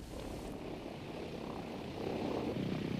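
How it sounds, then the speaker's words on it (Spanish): Propeller engines of a Convair 440 airliner in flight over Bolivia, a steady, even drone heard from inside at moderate level, swelling slightly louder toward the end, with no voices. "Ahora estoy volando un Convair 440 que lo considero un avión muy fiel, con motores muy finos"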